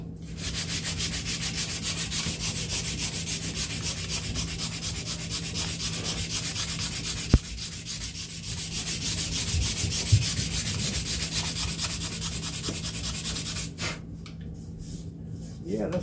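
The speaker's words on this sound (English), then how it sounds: "maybe hit it again with an 80 grit sandpaper" Steady, continuous rubbing of 80 grit sandpaper on a wooden gun stock held in a vise, close and fairly loud, with a brief knock partway through and the scraping easing off near the end.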